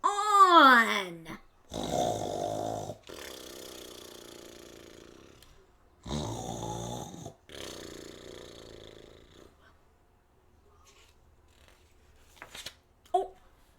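A voice imitates a bear snoring with drawn-out, rumbling, breathy snorts and wheezes, repeated in several long bursts with quiet gaps between them, close and fairly loud.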